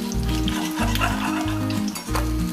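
Pieces of rohu fish fry in oil with a loud, close, steady sizzle, stirred now and then, over a low pulsing hum.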